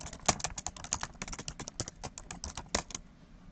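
Fast, steady computer keyboard typing while a medical order is updated, close and crisp, with a continuous run of distinct key clicks that trails off near the end.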